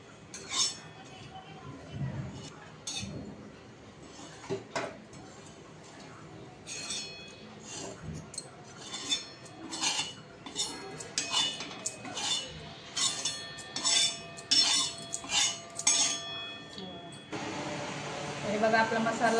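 Roasted grated coconut is scraped out of a pan, with metal utensils clinking and scraping against the pan in irregular bursts, close by, with a voice talking over part of it.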